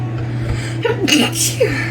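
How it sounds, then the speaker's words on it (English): A single sneeze from a woman, a sharp breathy burst over a steady low background hum, followed by a quick voiced exhale. "Feel a sneeze coming on."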